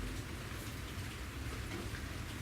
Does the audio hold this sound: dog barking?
no